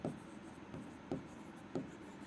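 Someone writes on a board during a bank-exam puzzle lesson: four short, faint scratching strokes evenly spaced in a quiet room.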